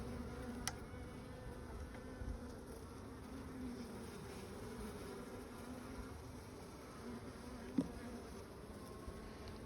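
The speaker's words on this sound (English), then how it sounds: "see a few more bees down on the next frame" Honeybees buzz over a hive frame in a faint, steady drone, with a few soft clicks and a brief louder tap partway through.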